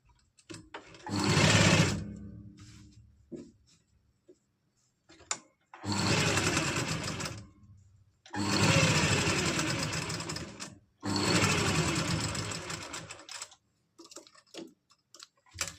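Sewing machine stitching an umbrella frock with piping work, running in four sustained bursts of a few seconds each with brief pauses between, close and fairly loud, with no talking.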